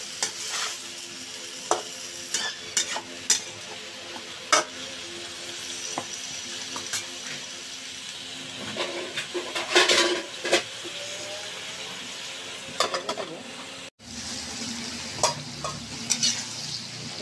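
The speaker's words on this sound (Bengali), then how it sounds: "বন্ধুরা দেখুন আমি আলু আর মূলা সুন্দর করে কষাই নিচ্ছি।" Potato and radish being stir-fried in spiced oil, with a steady sizzle under repeated scraping and stirring strokes of a spatula against the pan, close and continuous.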